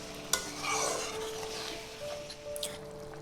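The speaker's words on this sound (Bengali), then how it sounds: "মশলাগুলোকে ভালো করে কষিয়ে নেব।" Masala with tomato being stirred and fried in a pan for a fish curry, a close, steady sizzle broken by wet scraping spatula strokes and a sharp knock at the start.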